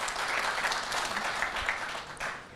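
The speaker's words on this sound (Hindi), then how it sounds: "मैं चाहता हूं आप जोरदार तालियों के साथ नितिन गडकरी जी का स्वागत करें।" Applause from a studio audience welcoming a guest, Union road transport minister Nitin Gadkari, a dense steady wash of many hands clapping that tapers slightly at the end, with no talk over it.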